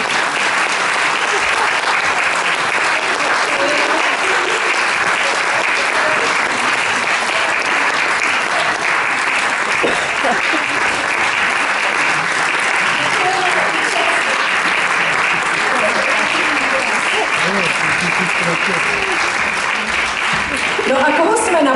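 Sustained applause from the audience at a Christmas concert by a children's folk ensemble in Prague, dense and steady for over twenty seconds, with a voice briefly audible near the end.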